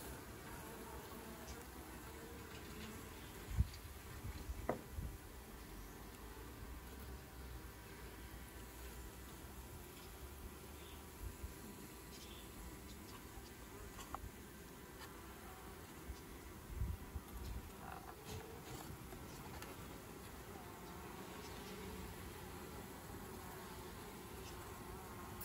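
Bees buzz faintly and steadily around a mini nuc hive, with a few soft knocks and handling sounds close by.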